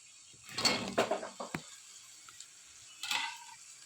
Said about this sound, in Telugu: ఇలా ఆనియన్స్ అన్నీ బాగా మగ్గిపోయిన తర్వాత కట్ చేసి పక్కన పెట్టుకున్న బెండకాయ ముక్కలన్నీ వేసుకోవాలి